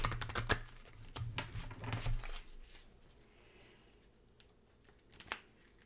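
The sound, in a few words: shuffling tarot cards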